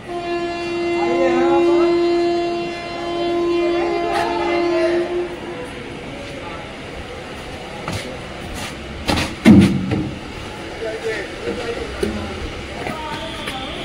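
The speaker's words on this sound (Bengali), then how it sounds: "দেখো বন্ধুরা, ট্রেন ছেড়ে দিয়েছে।" A passenger train pulls away and runs along the tracks. A steady horn-like tone sounds early, then a continuous rolling rumble follows, with voices faintly present and some louder knocks near the end.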